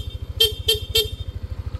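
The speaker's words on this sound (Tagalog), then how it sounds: "pag naka-off yan, ang busina stock." The stock horn of a Yamaha NMAX V2 scooter gives three short, evenly spaced honks, close and clear. A low, pulsing engine idle runs underneath throughout.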